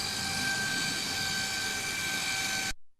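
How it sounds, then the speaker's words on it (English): An outboard motor picked up underwater by a hydrophone gives a steady, dense mechanical hum with a constant tonal whine running through it, holding at even strength before it cuts off abruptly near the end. "So that is the noise of an outboard motor."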